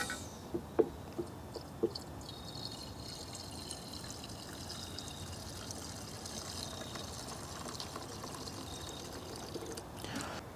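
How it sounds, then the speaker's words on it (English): Mixed fuel pours steadily into the tank of an Echo PB-2520 handheld leaf blower, a soft continuous trickle with a few small knocks near the start. "Pour in the fuel."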